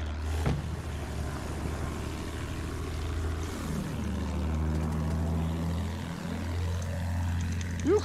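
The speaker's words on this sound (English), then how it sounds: "Yukarı bakın! Bombardıman tayyaresi!" Propeller bomber aircraft in the World War I game Battlefield 1, its droning engine passing overhead with a pitch that swells and then falls away as it flies by, over a steady low rumble of battle.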